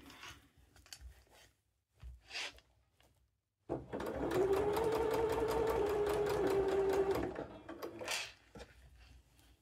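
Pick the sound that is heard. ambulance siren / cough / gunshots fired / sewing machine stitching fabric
sewing machine stitching fabric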